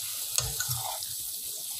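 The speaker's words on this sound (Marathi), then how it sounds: "या मसाल्यांमध्ये देखील कांदा 5 मिनिटं शिजवून घ्यायचा." Onion cooking with chilli powder and spices for whole masoor curry, a faint steady sizzle with a couple of soft stirring knocks, close but quiet and without talk.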